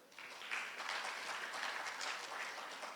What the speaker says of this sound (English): So round of applause to all of our nominees.